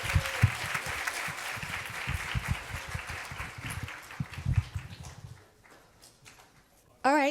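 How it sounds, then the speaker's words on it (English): An audience at a literacy symposium gives a panel of principals a round of applause, steady dense clapping that thins and fades out near the end before a voice begins speaking. "So please give us a round of applause for our panel."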